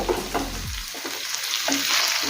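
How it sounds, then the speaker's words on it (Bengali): Ivy gourd and potatoes frying in a pan, stirred with a few scraping strokes over a steady close sizzle, no voices. "একবার সব কিছু নেড়ে নেব।"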